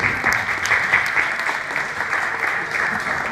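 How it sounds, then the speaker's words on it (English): A crowd claps steadily in dense, sustained applause, loud and continuous throughout. "Give me a big round of applause."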